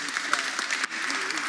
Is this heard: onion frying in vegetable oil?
no